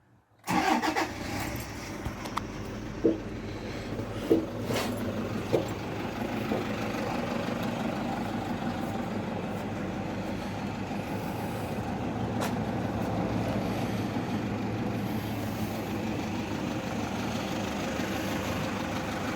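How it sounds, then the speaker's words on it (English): Dirty ute with 199,000 km on it cranks and catches, then settles into a steady rumbling idle; a few knocks ring out early before the engine drones on evenly. "Give it a start up."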